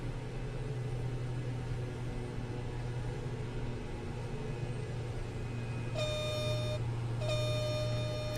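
A steady droning plane engine hum in the Microsoft Flight Simulator 2024 video game, continuous and even, with a brief two-part tonal horn or alarm near the end.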